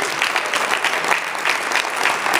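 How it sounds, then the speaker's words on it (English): Steady, dense applause from an audience at a union convention speech, continuous clapping filling the whole stretch at an even loudness with no voices breaking through. "Give her a round of applause."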